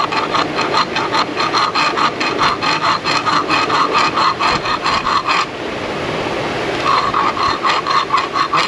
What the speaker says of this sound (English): So when you push with the file, it only cuts forward.